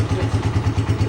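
A Hojun 4 Egyptian 150cc motorcycle engine running with the clutch lever pulled in: a close, loud, steady low throb with regular rapid pulses and a faint mechanical clatter on top.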